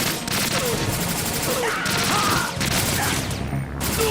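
Rapid AK rifle gunfire in the video game Metal Gear Solid 2, loud dense bursts of shots running almost continuously with brief gaps.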